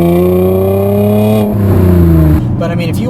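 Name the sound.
2010 Chevrolet Camaro RS V6 engine revving high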